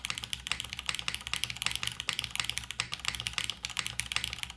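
Fast, continuous typing on a Pluto tenkeyless mechanical keyboard with an aluminum top-mount case produces a harsh, clacky stream of dense keystrokes, close and steady, over a faint low hum.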